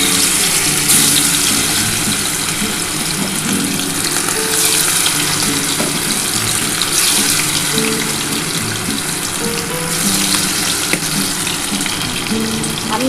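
Chicken pieces fry in hot oil for a homemade dry chilli chicken, a loud, steady sizzle and crackle that continues without a break.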